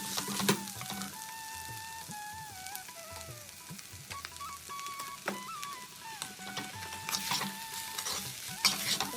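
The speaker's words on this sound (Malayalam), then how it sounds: "ഇനി നന്നായിട്ടൊന്ന് മിക്സ് ചെയ്ത് കൊടുക്കണം." Avial, a vegetable dish, is stirred with curd in a pan, with soft scraping and wet squelching under a faint sizzle over a steady low background, a few sharper knocks of the spoon on the pan rim, no voices.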